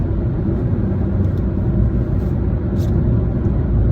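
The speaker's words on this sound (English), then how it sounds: "I don't know if you can hear how much sound the engine makes, but basically the engine is almost not possible to hear" Cabin sound of a 2009 Fiat Panda 1.1 driving in third gear: a steady low engine and road rumble, moderately loud and unbroken, with no talking.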